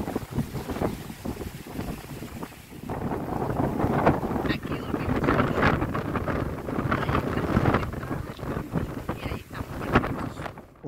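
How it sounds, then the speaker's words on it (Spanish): Gusty wind roars against the microphone, rising and falling in loud buffets, with a voice talking faintly underneath. "Hoy afuera está muy ventoso"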